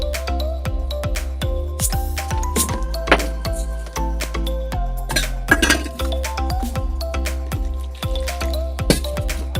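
Tulsi leaves being washed again by hand in a bowl of water, with steady clinks and knocks of the bowl, small splashes and drips running close and continuous throughout.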